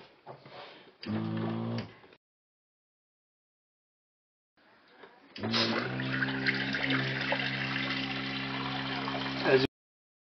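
A small sailing yacht's water pump whirs in two bursts, a short one and then a longer steady drone, with water running into the sink underneath.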